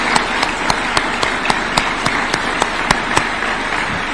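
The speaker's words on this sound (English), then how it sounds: "Can we clap for Rose," An audience at State House applauds an award winner with a steady wash of clapping, punctuated by sharper individual claps at a regular, rhythmic pace.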